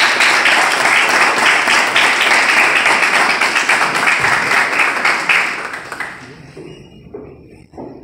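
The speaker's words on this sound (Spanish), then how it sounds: "Un aplauso para ustedes." Loud, sustained applause from an audience at an environmental certification ceremony for eco-efficient companies, then fading to a few scattered claps and faint room noise.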